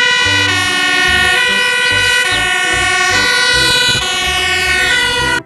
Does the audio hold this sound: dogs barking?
no